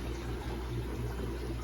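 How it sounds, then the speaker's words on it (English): Water pours steadily during a fish tank water change in a home fish room, a constant low rushing flow with no breaks, fairly quiet, with a faint hum underneath. "I'm just doing water changes down here today."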